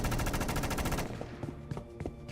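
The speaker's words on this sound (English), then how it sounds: "More ear-splitting gunshots lit the tunnel ahead." Loud, rapid bursts of gunfire fill the first second like a fusillade, then scattered single shots crack and echo through an underground tunnel, alone with no talk.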